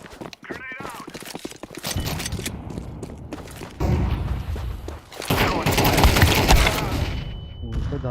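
Rapid gunfire bursts and a heavy grenade blast ring out in a shooter video game, loud and dense, with players talking over the shooting.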